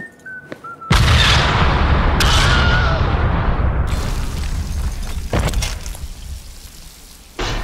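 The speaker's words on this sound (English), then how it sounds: "Time to go boom." A C4 explosion in the Deadpool video game erupts as one loud, sudden boom, then rumbles and decays over several seconds, with debris crackles and a second blast-like burst partway through.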